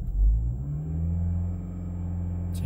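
A Toyota Prius hybrid engine runs close by with a low steady rumble, its pitch rising slightly and then holding level.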